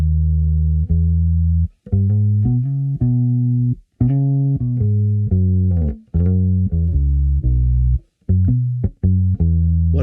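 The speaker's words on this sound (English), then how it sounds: "Listen to the sound of the attack." Slow electric bass guitar notes, each with a distinct plucked attack, ring out in a deliberate line of sustained low tones with brief pauses between phrases, clean and close.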